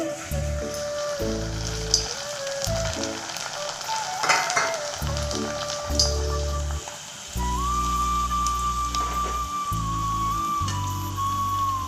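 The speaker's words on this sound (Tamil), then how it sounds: "இப்போ நம்ம எண்ணெயில் போட்டு பொறிச்சு எடுத்துடலாங்க" Appalam samosas fry in hot oil with a continuous bright crackling sizzle, like light rain, heard under loud background music with sustained tones.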